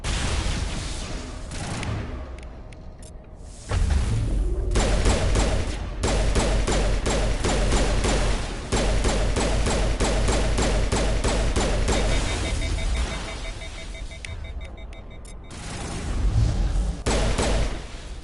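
Gunfire aimed at the player in the Mass Effect video game, a dense fusillade of rapid shots that runs steadily and loudly for most of the stretch, with short gaps and lulls between bursts.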